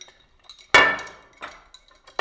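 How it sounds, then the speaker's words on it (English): Ice cubes dropped into a strawberry cocktail: a few separate bright clinks and clatters of ice hitting glass, close and sharp, with quiet gaps between. "So after you finish, you just put a couple of ice cubes in."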